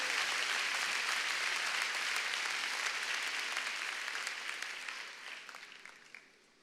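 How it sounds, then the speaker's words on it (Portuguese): A church congregation applauding together, a broad, dense wash of many hands clapping that holds steady and then gradually thins and fades out toward the end, no speech over it. "Você consegue aplaudir ao Senhor pela sua palavra agora?"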